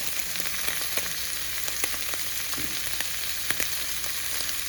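Ground meat fries in a pan for cheeseburger-style make-ahead meals, a constant close sizzle with small crackles and pops scattered throughout and no talking.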